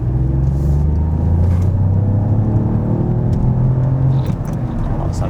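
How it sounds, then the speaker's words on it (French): Peugeot 308 GT Line accelerating on the road, heard from inside: a steady, loud engine drone with rising tonal whine and road rumble throughout, no speech. "Ça accélère un petit peu quand même."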